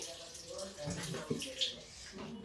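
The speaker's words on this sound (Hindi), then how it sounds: "मैं गैस जला के इससे पानी डाल देती हूँ।" Water pours steadily into a metal pressure cooker on a gas stove close by for cooking lentil dal, splashing softly, with a voice murmuring underneath.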